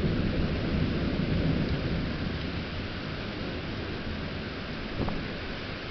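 A thunderstorm over Wheeling, West Virginia: a steady roar of heavy rain with low rumbling thunder rolling underneath, continuous and loud, with a brief crackle near the end.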